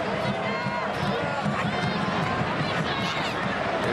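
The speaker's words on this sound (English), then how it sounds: "Great crowd on hand." A large stadium crowd at a USA v Germany women's international friendly football match makes a steady, broad roar and murmur, continuous and fairly loud without clear peaks.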